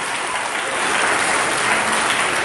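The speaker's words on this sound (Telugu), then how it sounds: "సుజాత గారిని, కిషోర్ గారిని గట్టిగా చప్పట్లు కొట్టి వారిని అభినందించాడు" Steady, dense applause from a school audience at a scholarship distribution ceremony, with no voices breaking through and the clapping holding loud and even for the whole stretch.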